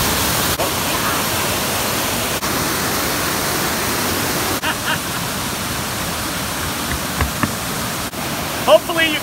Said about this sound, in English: Hopefully you can hear me over above the waterfalls here.